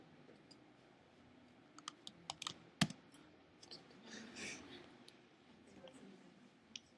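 A computer keyboard pressed for a Command-C copy shortcut during a coding study session, with faint scattered clicks and one sharp keystroke against a quiet room; murmured voices drift in the background.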